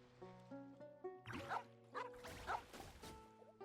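Cartoonish puppy barks from Genshin Impact ring out in a quick series of yips over a light, plinking game melody, close and fairly loud.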